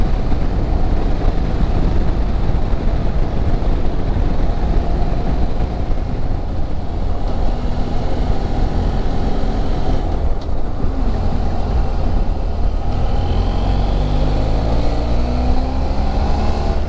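BMW F800GS Adventure motorcycle engine running steadily under a continuous roar of road and wind noise, with rising and falling tones as it shifts up through fifth and sixth gears.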